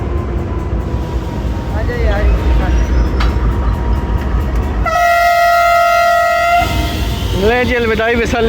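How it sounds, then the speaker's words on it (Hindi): The 15 Up Karachi Express locomotive sounds a long steady horn blast at Lahore Junction, loud and close over platform rumble, with someone speaking before and after. "ले जी अलविदाई विसल ले जी 30 का सुन लें"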